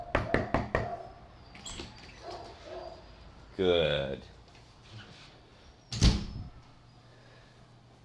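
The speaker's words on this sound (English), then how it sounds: "Now I'm going to go out and knock on the front door." Knuckles rap a front door in a quick burst of about five sharp knocks, followed by a brief spoken word, a few soft bumps and a louder thud near the end.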